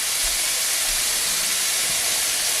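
Steady broadband hiss of steam rising from a pot of freshly cooked rice and vegetables for a General Tao meal, soft and continuous close by, with faint low clatter underneath.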